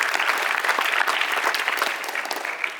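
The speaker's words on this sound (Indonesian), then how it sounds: "Tepuk tangan buat teman-teman." Audience applause for high school students at a session with the MPR, a dense, loud burst of clapping with little else over it.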